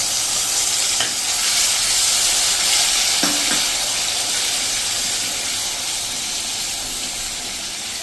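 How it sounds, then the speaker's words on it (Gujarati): Onion and tomato paste hits frying spices in a pan, producing a loud, steady sizzle and hiss that fades slightly over several seconds, with a few faint clinks. "તો આપણે આ જે કાંદા અને ટમેટાની પેસ્ટ કરી એ નાખી દઈ."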